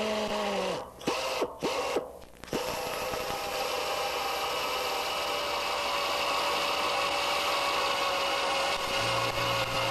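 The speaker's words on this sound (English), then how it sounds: "drill and put your bolts in." A power drill whines in a few short starts, then runs steadily at a high pitch for several seconds, loud and close, drilling holes in a Van's RV-6 aircraft kit.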